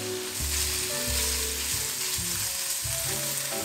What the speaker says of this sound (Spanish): Y en este sartén vamos a agregar la carne.